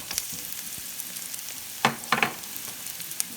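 Garlic is tipped into onion frying in a pot, giving a quiet steady sizzle with a couple of louder bursts and stirring scrapes about halfway through.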